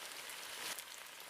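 Steady rain falls in a village beside a river during a cartoon story, a dense even hiss of drops close by with no voices.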